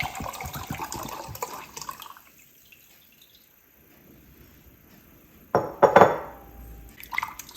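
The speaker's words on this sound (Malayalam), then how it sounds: "ഒരു 70 മില്ലി ചൂടുവെള്ളത്തിലേക്ക് 250 മില്ലി വോഡ്ക നമ്മൾ ഒഴിച്ചു വിടണം" Hot water poured into vodka while making Irish cream: a soft liquid trickle at the start, then quiet, followed by a brief clatter of glass around the pour near the end.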